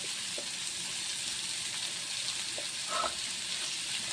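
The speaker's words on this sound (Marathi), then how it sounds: "कांदा आपल्याला जास्त भाजायचा नाही आहे, एकदम काळा करायचा नाही, थोडासा गुलाबी रंग येईपर्यंत भाजूया" Onion and tomato fry in a pan for matar paneer, giving a steady broadband sizzle with a few faint clinks of stirring, close and even throughout.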